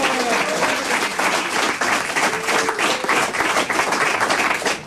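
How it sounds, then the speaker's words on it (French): Studio audience at a French comedy prank-call show clapping loudly, a dense, sustained roar of many hands, close and unbroken for five seconds. "Applaudissez-la de temps en pour temps."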